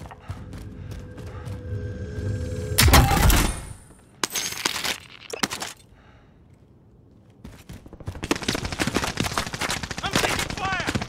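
Gunfire in the Call of Duty Modern Warfare video game: rapid bursts of automatic shots with mechanical clatter, one loud heavy blast, brief quiet stretches, then sustained close firing again, with game voices speaking over parts.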